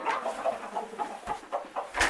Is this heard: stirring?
no